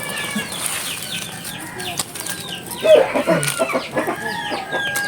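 Chickens cluck and squawk close by, a rooster briefly crows, and wings flap in a busy, noisy outdoor scene.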